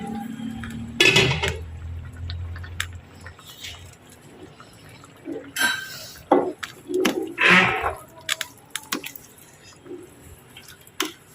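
Boiling egusi soup with stockfish is stirred in a pot, giving wet sloshing, dripping and clinking of the spoon against the pot in irregular bursts, close by, with quiet stretches between.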